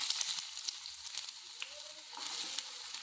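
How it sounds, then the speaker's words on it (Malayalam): Onions hiss and crackle loudly in hot oil, a dense continuous sizzle with small pops and brief scraping touches throughout. "ഇനി എണ്ണ ഒഴിച്ചു. അതിനകത്ത് സവാള ഇട്ട് കൊടുക്കുക."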